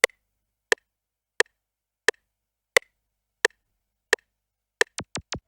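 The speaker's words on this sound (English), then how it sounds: "So the first thing was this laser sound" Electronic drum beat in an FL Studio production of Burna Boy's Last Last: seven evenly spaced sharp clicks, then three quick laser zaps that sweep downward at the end, crisp and isolated.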